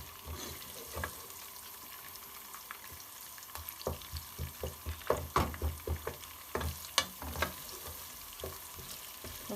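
A couple of small onions sizzle steadily in a pan while being stirred, with scraping and clinking strokes bunching up in the middle. It is close and fairly quiet, with no talking.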